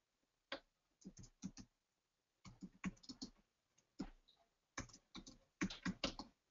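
Rapid bursts of typing on a computer keyboard, clustered key clicks in several quick runs separated by short pauses, close and clear in a quiet room.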